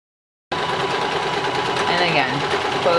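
A sewing machine starts up and runs steadily, stitching a seam on a homemade baby burp cloth with a close, even mechanical whir; a voice speaks briefly over it.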